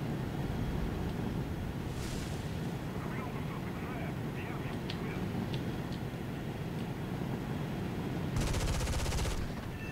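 Rapid aircraft cannon fire from a Canadair Sabre CL-13A Mk.5 jet in War Thunder rattles over a constant loud jet engine roar, with a sharp burst near the end and a voice talking over it.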